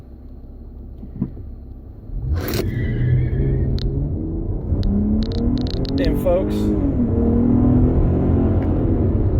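A Dodge Challenger V6 launches hard from 0 to 60, its engine rising into a loud, sustained rumble with climbing revs as it pulls through the gears, close by while someone speaks over it.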